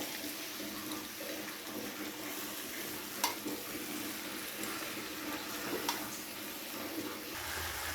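Potatoes and pointed gourd sauté with spices in a pan for a potol chingri curry, giving a steady soft sizzle broken by a couple of sharp stirring scrapes.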